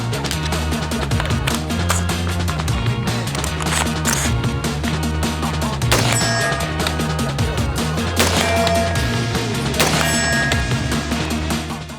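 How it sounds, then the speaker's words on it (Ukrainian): A rapid, loud series of gunshots cracking one after another in a steady barrage, close by and unbroken throughout, fired from a gun fitted with an EOTech EXPS3 sight. "Зробимо для перевірки декілька пострілів."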